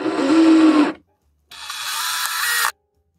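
A small powered screwdriver drives tiny 4x12 screws to mount an air pressure module, two close whirring bursts of about a second each with a brief pause between.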